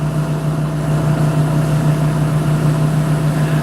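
A grain cart tractor's engine runs at a steady, even drone with a strong low hum, heard from inside at constant loudness with no talking.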